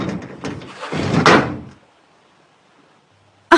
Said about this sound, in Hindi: जाते वक्त दरवाजा बंद कर दीजिएगा,